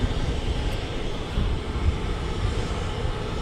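A departing jet with chevron noise-abatement engines roars steadily at an airport, a broad continuous rumble heard from a distance, with no voices over it.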